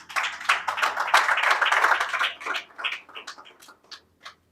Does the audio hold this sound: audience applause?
yes